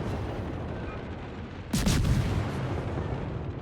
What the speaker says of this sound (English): If I was to keep shooting now and score penetrations